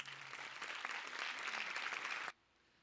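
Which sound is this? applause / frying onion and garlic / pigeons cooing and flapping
applause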